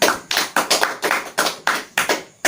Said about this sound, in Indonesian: Berikan tepuk tangan untuk Mbak Yayan yang sudah maju ke depan.